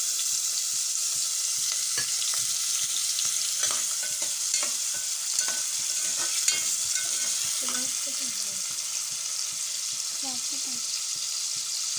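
Tomato and onion fry in a pan for Schezwan chutney, a constant close sizzle broken by irregular scrapes and knocks of a spoon being stirred, with no talk over it.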